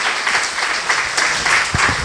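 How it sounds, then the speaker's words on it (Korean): An audience in a lecture hall applauds, a short burst of steady clapping from many hands at moderate loudness. "박수 한번 쳐주세요"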